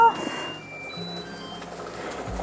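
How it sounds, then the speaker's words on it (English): Kitchen timer beeping during pressure canning of turkey broth, a steady high electronic tone running through the clip at moderate level, with low background hum and no speech. "our timer is now going off"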